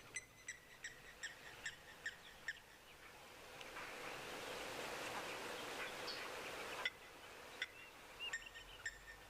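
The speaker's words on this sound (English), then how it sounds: "Lovely bird choruses this morning." Morning bird chorus with blacksmith lapwings nearby, a series of sharp, repeated distant calls over a steady outdoor hiss, thickening into a denser wash of song midway before the separate calls return.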